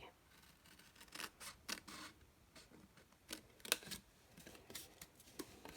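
Scissors snipping through craft card while making a hand sanitiser gift box: a quiet, close series of crisp cutting snips at an uneven rhythm.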